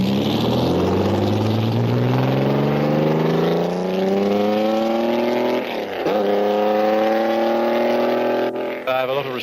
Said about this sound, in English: John Watson test drives a 250F.